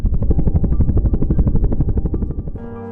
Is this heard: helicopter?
yes